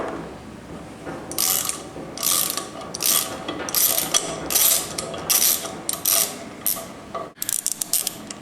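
A ratchet wrench clicks in repeated short bursts as it backs a thread repair tool out of an engine's spark plug hole, each burst a crisp close run of pawl clicks with brief pauses between.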